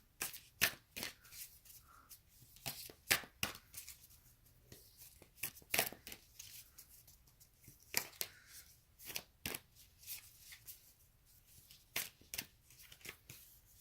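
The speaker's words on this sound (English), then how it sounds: "while I was shuffling, I kept seeing this card." A deck of Moonology oracle cards is shuffled close by in quiet, crisp, irregular flicks and riffles, repeating over about fourteen seconds with no talking.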